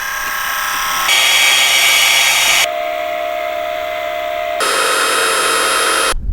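Electric skateboard motors run in a noise test, giving a loud, steady high-pitched whine that changes tone abruptly several times as different boards take turns, with no talking.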